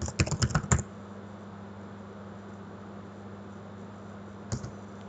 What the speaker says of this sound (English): then we're going to type in the username.